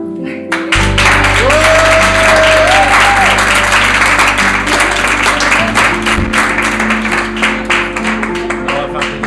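Audience applause fills a training-programme session, steady and dense throughout, with a low hum and some voices mixed in beneath the clapping.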